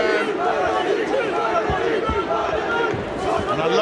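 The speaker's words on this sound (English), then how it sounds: "You can hear them, I'm sure, at home, but right on the barrier away to our right, cheering their man on." A boxing crowd roars and chants continuously for their fighter from the barrier in the final round, a loud steady wash of cheering voices with some rhythmic shouts.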